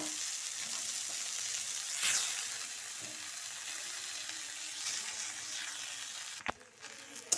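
Potato and coriander masala frying in a wok, a steady, close sizzle with occasional stirring scrapes, then a few sharp clatters near the end, with no talking.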